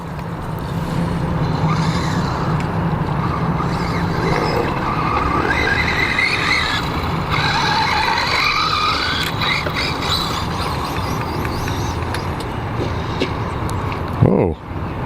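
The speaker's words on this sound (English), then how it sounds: "You never know who you'll pick up as an onlooker when driving an RC car at the park" A Kyosho DBX VE 2.0 electric RC buggy running on 3S in a park, its motor whining in a steady rushing drone as it drives, with tire scuffs, outdoor background noise and a voice talking over it.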